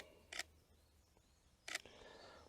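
An SLR camera's shutter fires twice on a 2-second self-timer during landscape photography in a quiet woodland: two crisp mechanical clicks about a second and a half apart, close and distinct over a faint hushed background.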